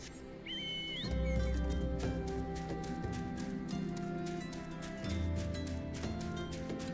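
A mount's hoofbeats while riding in Final Fantasy XIV, a quick steady clip-clop of hooves over background game music, with a brief whistling tone near the start.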